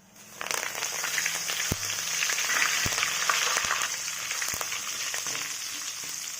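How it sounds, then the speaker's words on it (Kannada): Curry leaves crackling and frying in hot oil for poha chivda, a dense close sizzle that swells quickly and holds steady, with a few sharp pops and taps. "ನಂತರ ಕರಿಬೇವು ಸೊಪ್ಪನ್ನು ಫ್ರೈ ಮಾಡಿಕೊಳ್ಳಿ"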